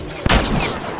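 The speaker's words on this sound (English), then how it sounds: "Oh, dude, I shot his armor and killed him" A single shotgun blast in The Last of Us multiplayer, one sharp loud crack followed by a short rumbling tail.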